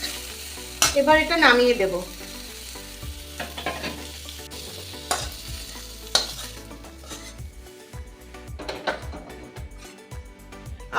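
Young jackfruit fries in a pan with a crackling, bubbling sizzle and occasional utensil scrapes and clinks, while someone speaks briefly over the cooking.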